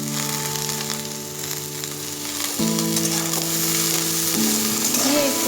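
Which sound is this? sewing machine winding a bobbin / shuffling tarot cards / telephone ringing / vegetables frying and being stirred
vegetables frying and being stirred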